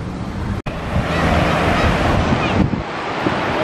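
Ocean surf washes onto a San Diego area beach under heavy wind buffeting the microphone, a continuous broad rush that drops out for an instant early on.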